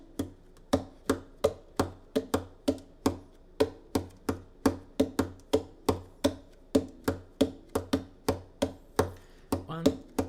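Hands beating a rhythm on an eighth-note grid, a steady run of sharp close slaps and taps in an even, regular pulse with slight accents, no talking.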